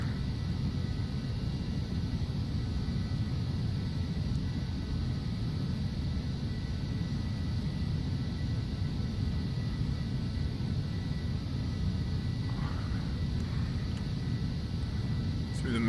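A Phenom 300 jet in a flight simulator gives a steady, loud broadband engine roar and rumble that holds unchanged throughout, with no other sounds over it.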